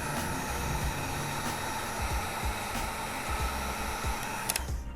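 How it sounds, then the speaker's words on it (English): A heat gun blows steadily on a solder sleeve over wires during a Harley Iron 883 Sportster LED tail light install, giving a continuous, loud whooshing hiss and hum for the whole stretch with a few faint knocks beneath. "I got to hit it with a heat gun, which gets crazy hot"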